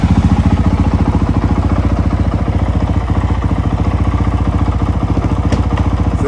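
A 2020 Honda CRF450X dirt bike engine runs steadily close by, a fast, even thumping putter that holds an unchanging rhythm throughout with no talking.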